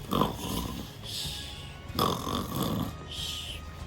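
A voice imitates snoring, drawing in rough, exaggerated snorting breaths three times in a slow, regular rhythm, close and moderately quiet.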